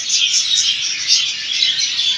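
Small pet Australian birds chirp and twitter in a dense, steady chorus, bright and close-up, without voices.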